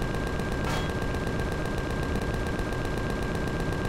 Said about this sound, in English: how can a shotgun fire that far?